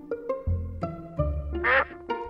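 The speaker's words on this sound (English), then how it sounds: "Quack, quack, ducky." A cartoon duck on an animated children's alphabet program gives several short, nasal quacks in quick succession, close and clear, over a light musical backing.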